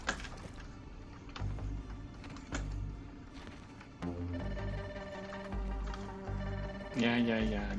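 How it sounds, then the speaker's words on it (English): A phone ringing during a Grounded 2 gaming session, with repeated ring tones sounding over a busy game soundtrack and a voice talking throughout. "Yeah, I'm going to take the phone."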